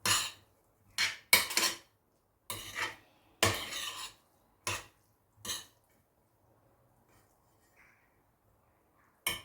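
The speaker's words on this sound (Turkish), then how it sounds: "Şimdi şöyle bir karıştıracağım." Bulgur pilaf with noodles being stirred in a pot, a series of short scraping, clattering strokes of a utensil against the pot, close and distinct, separated by quiet pauses.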